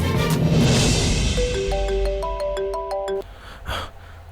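A mobile phone rings with a short melodic ringtone, a rising run of bright tones repeated several times at moderate volume before it cuts off.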